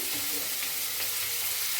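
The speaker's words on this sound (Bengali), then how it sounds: "আলুটা দিয়ে দিলাম" Potatoes fry in a wok of hot oil tempered with bay leaf and dried red chilli, a dense, steady, close sizzle with light stirring.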